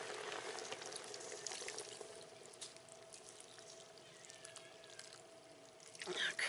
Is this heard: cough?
no